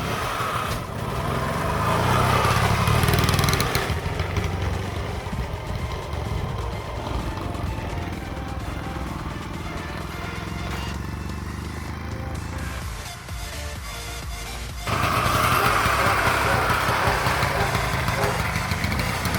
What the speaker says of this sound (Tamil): ஸோ ஃபைனலாக பார்த்தீங்கன்னா பைக் ஸ்டார்ட் ஆகிடுச்சு.